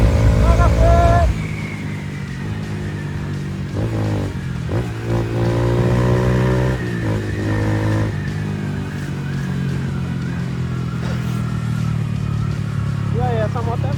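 A Honda Fan 160 motorcycle fitted with a Fortuna exhaust pipe idles and revs steadily, its engine droning loud and close while people talk over it.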